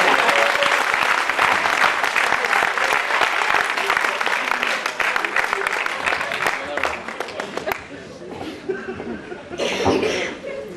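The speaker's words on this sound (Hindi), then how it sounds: "तालियों से स्वागत करें आप प्रदीप चौबे।" Enthusiastic audience applause welcoming poet Pradeep Choubey at a Hindi kavi sammelan poetry gathering in Hartford, Connecticut, a loud sustained clapping that thins out toward the end, leaving a few coughs, chuckles and crowd murmur.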